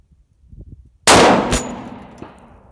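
A high-power long-range rifle fires one loud shot at a steel tree target, its sharp crack rolling off into a long echo, followed by a faint ring of the steel hit.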